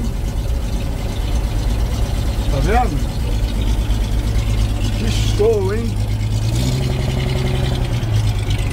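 Close by, a 1946 crank-start truck engine idles with a steady low rumble and a slight rise in pitch toward the end, while people talk over it.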